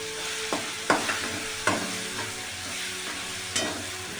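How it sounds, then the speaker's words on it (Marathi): Green chilies hit hot oil with already fried potatoes, giving a steady loud sizzle and crackle, with a few sharp spatters and stirring knocks through it. "छान मस्त तेलामध्ये फ्राय करून घ्यायची. मिरची जास्त नाही फ्राय करायची."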